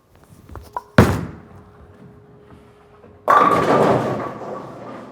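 A 15 lb bowling ball strikes the pins with a sharp impact. The pins crash and scatter loudly for about two seconds at close range. No one speaks.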